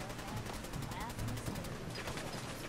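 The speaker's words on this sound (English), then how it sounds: "Who am I firing at?" Gunfire in the video game Fallout 4, rapid bursts of shots rattling over a steady game background, with speech mixed into the din.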